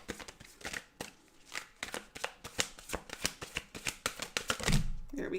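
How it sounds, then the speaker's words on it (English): Tarot cards are shuffled close up in a quick, uneven series of crisp riffling flicks and soft slaps, fairly quiet, with a brief low murmur near the end. "These cards are so difficult to shuffle."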